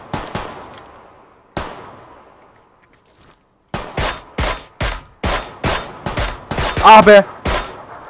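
Rapid gunfire from PUBG Lite, a few isolated shots followed by a dense run of loud, evenly spaced bursts, with a brief voice exclaiming near the end.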